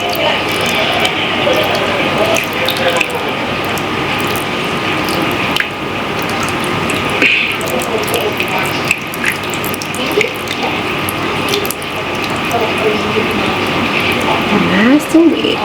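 Water runs steadily onto freshly planted Tokyo bunching onions and Scarlet Nantes carrots in a garden bed, a continuous splashing flow while people talk over it.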